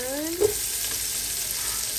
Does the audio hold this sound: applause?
no